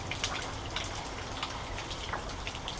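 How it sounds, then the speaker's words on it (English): Rain falls outside with a steady hiss and scattered close drops striking a surface, continuous and moderately loud with no voices. "It is raining outside, obviously"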